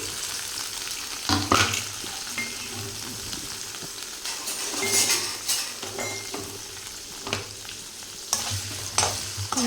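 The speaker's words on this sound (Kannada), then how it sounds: "ನಾವು ಚೆಂದಾಗಿ ಪನ್ನೀರ್ ಹುರ್ಕೊಳ್ಳೋಣ ರೀ." Paneer cubes fry in hot ghee in a pan with a steady sizzle, while a spoon stirs and clinks against the metal in bursts throughout.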